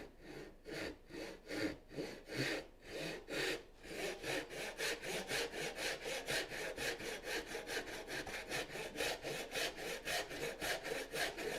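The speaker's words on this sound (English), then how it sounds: "And I can just go ahead and saw it here too." A hand saw cuts wood for a mitered half lap joint: a few slow, deliberate strokes, then a long run of quick, rhythmic back-and-forth rasping, close and steady with no voices.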